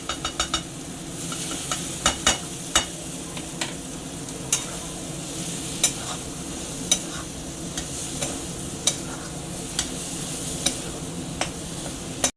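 Banana flower curry with prawns and a spoonful of ghee frying in a pan, with a steady close sizzle broken by repeated sharp clicks and scrapes of a spoon stirring against the metal.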